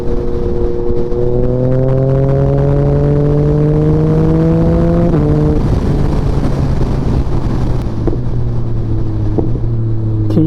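A 2021 Yamaha MT-09 motorcycle with a flashed ECU revs hard and loud up close, its pitch climbing steadily and then dropping in quick downshift steps, with wind roar throughout and no talking.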